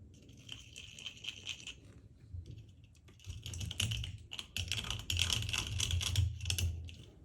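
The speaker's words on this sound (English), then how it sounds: "I happen to have a deburring tool. I'm going to kind of ream the outside edges of that." A hand deburring tool reams the edges of a drilled hole while a coat hook is being made. Short scratchy, crunchy scraping bursts start sparse and faint, then grow denser and louder toward the end.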